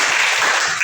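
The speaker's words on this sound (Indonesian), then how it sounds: "Berikan tepuk tangan." Brief applause in a classroom teaching session, several hands clapping in a dense, steady wash for under a second with no voices.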